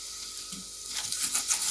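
Ghee sizzles around a moong dal paratha on a hot pan, a soft steady crackle that swells louder and brighter partway through, with faint scraping at the start and no talk.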